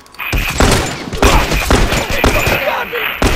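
Burst rifle fire from The Last of Us multiplayer comes in loud, close three-round bursts repeating in quick succession over other battle noise.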